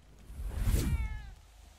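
A single drawn-out cat meow, close and clear, rising then trailing off.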